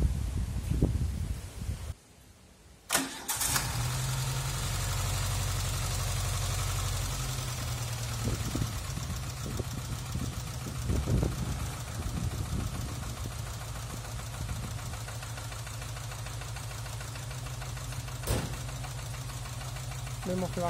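A car engine, just refilled with fresh coolant, starts after a short pause and settles into a steady, low idle hum with a faint rhythmic knock, running evenly nearby.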